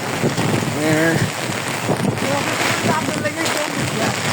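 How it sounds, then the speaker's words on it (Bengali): Dense, steady hiss of heavy rain pouring down nearby, with a voice talking over it throughout. "এদিক দিয়ে প্রচুর পরিমাণে বৃষ্টি"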